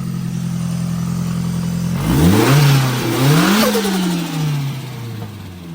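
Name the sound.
Nissan S13 SR20DET engine running and revving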